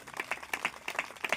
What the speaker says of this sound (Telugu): రెండు చేతులుంటే గట్టిగా చప్పట్లు కొట్టండి అమ్మా